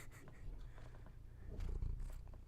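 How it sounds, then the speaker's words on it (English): A cat purrs right against a microphone, a low close rumbling texture that swells louder toward the end, with no talking. "you can hear the purring"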